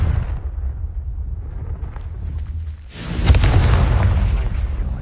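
A Confringo fire spell goes off in the game Hogwarts Legacy, a loud booming burst that erupts suddenly midway and rumbles on, following a quieter stretch of low ambient rumble.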